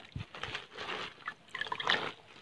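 Water trickles and drips from soaked peppercorns as they are lifted out, a brief, close, soft patter of small splashes and dribbles.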